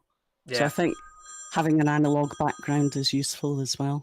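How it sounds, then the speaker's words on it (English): A telephone rings in the background of a work-from-home call, several bright repeated electronic ring bursts sounding under and between steady conversational speech from the people on the call. "Sorry about the phone ringing in the"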